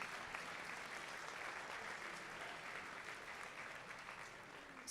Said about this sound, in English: Can we get another round of applause for Tim?